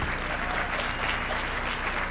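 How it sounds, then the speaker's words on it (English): Continuous crowd applause rolls through a room at a university educational conference, many hands clapping together in a thick, even wash with no pauses. "I know you guys can do a thunderous round of applause for that."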